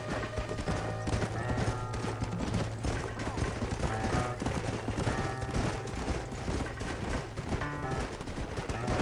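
Continuous rapid hoofbeats of horses galloping in the video game Red Dead pound over a dense mix of game music and effects, with scattered shots and occasional horse whinnies, loud and steady throughout.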